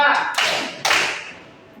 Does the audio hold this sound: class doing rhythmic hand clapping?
yes